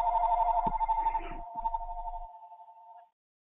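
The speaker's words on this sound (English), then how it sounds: "Somebody's phone's ringing." A phone rings during an online tutorial call: a steady pulsing electronic warble, loud and close, trilling for about three seconds before stopping abruptly, with faint clicks and background hum underneath.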